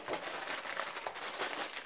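Faint, steady crinkling of a plastic food bag used for prepping vegetables, soft rustling bursts throughout with no talk.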